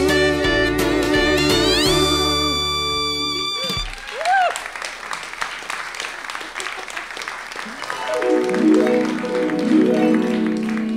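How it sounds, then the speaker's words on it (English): A theater audience breaks into applause at the end of a staged song number about Cupid, a dense, steady clatter of clapping that follows the last sung notes, with a few voices mixed in. "As the crowd applauds"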